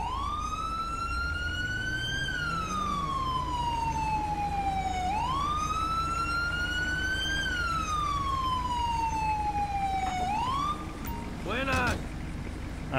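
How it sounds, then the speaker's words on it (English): An ambulance siren in GTA V with the LSPDFR police mod, wailing loud and near in long, slow rising and falling sweeps, then breaking into a quick burst of sharper yelps at the end. "You can go ahead and roll me an ambulance."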